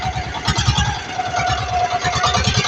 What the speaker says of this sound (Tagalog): Patayin ko na makina.